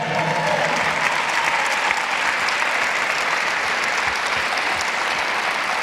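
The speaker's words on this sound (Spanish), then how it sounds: "Dale un fuerte aplauso al Señor." A church congregation applauds during a worship service, with loud, dense, continuous clapping filling the whole stretch close up and no pause.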